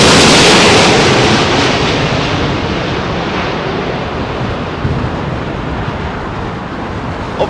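Strong, blustery wind at London Heathrow Airport buffets the microphone in a loud, rumbling, gusty roar that starts hardest and eases slightly, with a few sharp thumps from gusts.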